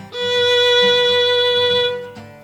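A sustained violin note with gentle vibrato, its pitch wavering slightly as it rings clearly and close, then tapering off before a small bow sound.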